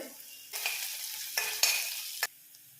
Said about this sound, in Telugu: ఇప్పుడు జీరా ఫ్రై అవుతుంది కదా